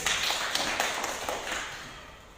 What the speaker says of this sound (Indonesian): tepuk tangan untuk Yani